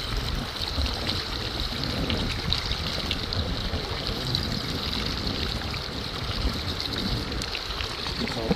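Water runs and splashes steadily while freshly harvested sea urchins from Vancouver Island are gently rinsed at a wild camp, a continuous close trickling wash with no talk.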